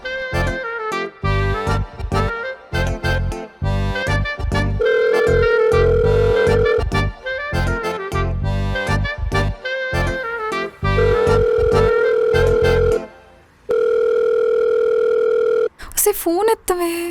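A phone call goes unanswered, a loud electronic ring tone repeating in melodic bursts with short pauses, mixed with other sounds near the end.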